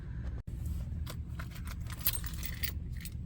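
Car keys jangling and clinking in short bursts near a 2006 Lincoln Town Car, close and fairly clear over a steady low background rumble, with no talking.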